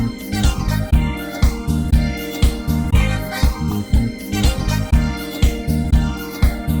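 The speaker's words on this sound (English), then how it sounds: "So we're really going for that slow, swirling phaser sound." A French house sample runs through a slow, swirling phaser, its chopped loop pulsing in a steady rhythm with the sweep moving through the upper tones, loud and alone.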